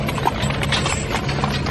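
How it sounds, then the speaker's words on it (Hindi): Horses' hooves clip-clop steadily as a horse-drawn coach sets off, a continuous rhythmic trotting heard close and fairly loud, with no talking over it. "चुपचाप कोच पर सवार हुआ और घोड़े चल पड़े"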